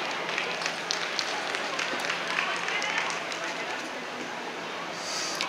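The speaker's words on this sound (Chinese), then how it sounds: "掌声鼓励。" Audience applause at a guitar club performance in a Tainan mall, a moderate, continuous patter of clapping with voices talking over it.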